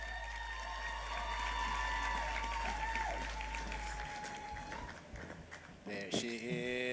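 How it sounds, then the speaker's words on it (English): Steady applause from the audience at the 42nd Botswana Sport Awards ceremony fills the hall, fairly distant and sustained, thinning out toward the end as a voice and a few whoops come through. "A round of applause."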